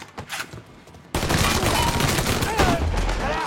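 Rapid gunfire erupts after a quieter opening, a loud sustained barrage of shots as someone unloads a weapon, with shouting voices mixed into the din.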